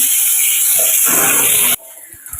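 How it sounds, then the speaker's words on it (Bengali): Garlic and onion sizzle loudly in a pan with a steady hiss, then the sound cuts off abruptly, leaving a few faint knocks. "একটু ভাজা ভাজা হয়ে যাক"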